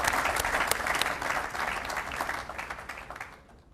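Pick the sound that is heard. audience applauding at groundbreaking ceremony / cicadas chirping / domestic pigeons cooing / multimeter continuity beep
audience applauding at groundbreaking ceremony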